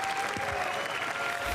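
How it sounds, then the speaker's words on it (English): Steady applause from a crowd at the GT World Series 2024 World Finals, a dense wash of clapping sustained throughout. "Give them a round of applause"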